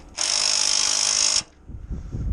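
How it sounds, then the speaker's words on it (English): A big hammer drill runs at a concrete anchor-bolt job site, a loud steady buzzing burst lasting over a second before stopping, followed by low rumbling and handling noise. "and we've each got a big hammer drill going."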